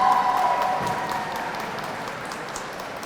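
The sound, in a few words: audience applause for Club Alma Yaucana award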